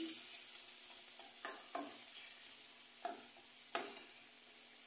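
A sardine mixture sizzles and fries steadily in a pan, with soft scraping strokes of stirring heard at intervals over the continuous hiss.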